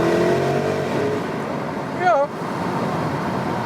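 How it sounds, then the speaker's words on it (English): A Porsche Cayenne GTS Coupé engine growls and revs steadily through its sports exhaust in Sports Plus mode, with a brief rising-and-falling exhaust note, heard from inside the vehicle with the window open and a voice faintly underneath. "so that sports exhaust is really something"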